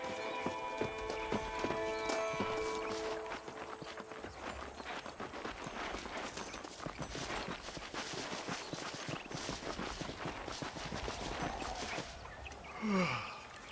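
Rhythmic hoofbeats of a horse trotting steadily in the video game Red Dead Redemption, with faint tonal music early on and a short snort or breath near the end.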